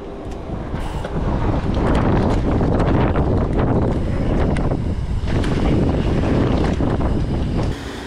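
Strong gusty wind buffeting the microphone outdoors at a bike park with an airbag and mulch jump, a loud continuous roar that swells and holds for most of the time.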